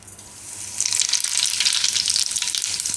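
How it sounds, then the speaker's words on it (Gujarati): Cumin seeds hit hot oil and burst into a loud, steady sizzle that swells within the first second and keeps crackling close up to the end, with no voices. "તેલમાં આપણે થોડું જીરું નાખીશું"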